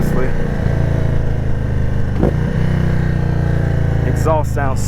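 A 2022 Indian Super Chief motorcycle with a tuned 111 engine rumbles loudly up close, its exhaust holding a deep steady idle with a brief rev in the middle and a couple of short throttle blips toward the end.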